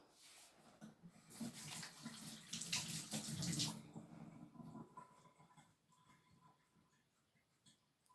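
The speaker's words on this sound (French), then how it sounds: "je me lave les mains" Tap water runs steadily as hands are washed under a faucet, a broad rushing splash that swells for a few seconds, then cuts off, leaving faint room noise.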